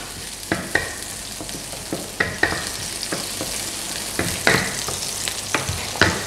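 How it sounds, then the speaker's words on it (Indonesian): Onions sauté in a pan with a steady sizzle. A spatula scrapes and clacks against the metal in a quick, irregular series of close, crisp strokes, and there is no talking. "Ini akan kita tumis sampai dia berwarna coklat ya"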